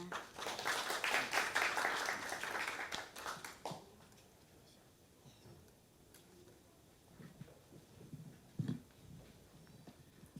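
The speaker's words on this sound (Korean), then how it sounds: "큰 박수 부탁드리겠습니다" Forum audience applause fills the first few seconds with a dense patter of clapping that dies away near four seconds, leaving a quiet room with faint shuffles and a single knock.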